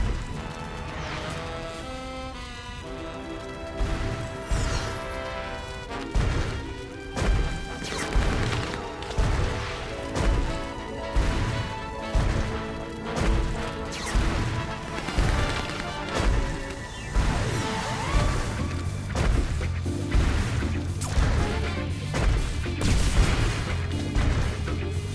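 Objects are smashed around a city in the Sam & Max video game, rhythmic crashing thumps repeating every second or so under a busy game music score, loud and continuous throughout.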